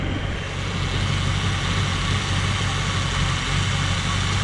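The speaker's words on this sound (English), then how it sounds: "It's a pretty good sounding engine." A 289 Ford V8 engine in a 1967 Ford Galaxie 500 idles steadily at its first start, with a deep, even rumble and a low mechanical hum, close and constant throughout with no voices.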